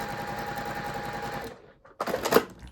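Sewing machine stitching fabric for a scrap purse, a steady rapid mechanical chatter that stops, followed after a short pause by faint handling clatter.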